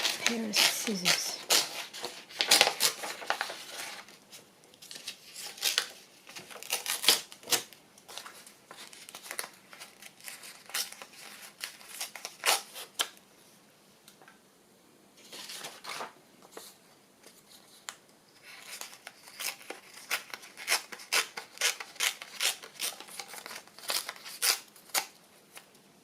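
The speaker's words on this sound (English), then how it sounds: "pair of scissors" Scissors snip through paper in irregular bursts of crisp cuts, with crinkling and rustling between them and brief quiet pauses.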